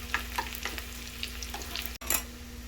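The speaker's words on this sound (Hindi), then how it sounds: "इसमें सबसे पहले डालते हैं प्याज, बारीक बारीक कटे हुए। ये ऐसे प्याज़ों को करेंगे हल्का सा ब्राउन।" Finely chopped onions fry and brown in ghee in a pan, a quiet continuous sizzle broken by the scrape and stir of a spoon, close and steady with no voices.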